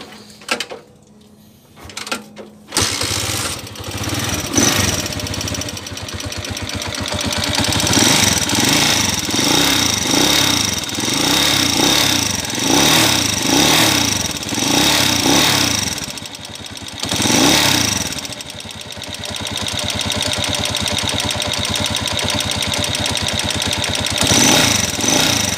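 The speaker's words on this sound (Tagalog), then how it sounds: "Maingay itong motor ni kuya." A Honda TMX125 Alpha motorcycle fitted with a 200cc conversion starts up after a few seconds of quiet, then idles and revs loudly and steadily nearby, its rough, rattly engine running continuously to the end.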